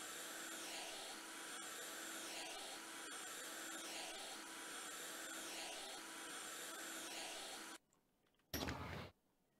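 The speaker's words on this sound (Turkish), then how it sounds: "Neyse şu camı temizleyeyim bir." Window glass cleaning in the House Flipper game, heard as a steady, loud whooshing hiss that runs continuously for several seconds, then drops out, returns briefly as a harsh burst, and stops.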